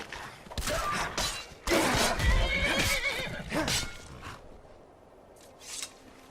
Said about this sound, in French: Ils osent s'attaquer à mon cheval en plus.